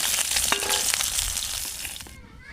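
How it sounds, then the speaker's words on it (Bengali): Fish sizzling as it fries in hot oil, a steady loud crackle with bursts of spatter, fading slightly near the end, no talk. "দেখুন মাছগুলো কিন্তু লাল করে ভাজা হয়ে গেছে"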